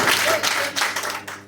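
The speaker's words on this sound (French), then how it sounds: "Applaudissez!" Brief, close burst of clapping from a crowd at a business training session in Togo, mixed with shouting voices and tapering off.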